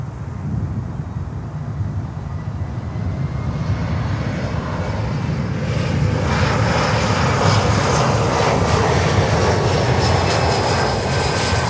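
A cargo aircraft landing at Miami airport roars steadily, its engine noise swelling and brightening as it draws nearer, loud and continuous with no talking.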